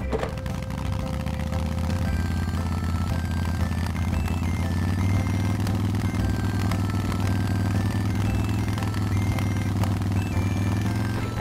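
Red toy motorcycle giving off a continuous mid-level engine hum that slowly rises in pitch, with scattered clicks and clatter over it, no speech.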